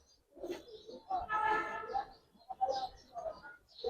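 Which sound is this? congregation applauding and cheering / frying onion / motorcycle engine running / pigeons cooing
pigeons cooing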